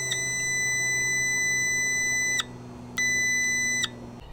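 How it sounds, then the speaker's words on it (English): Multimeter continuity beep with the two probe ends touched together: a loud steady electronic tone lasting over two seconds, then a brief gap and a second shorter beep of about one second. "I'm going to verify that the multimeter is working properly by connecting both of the ends"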